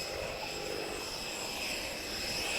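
Supermarine Spitfire piston-engine fighter flying over Portugal at an airshow, a steady, fairly faint drone that holds evenly throughout with no talk over it.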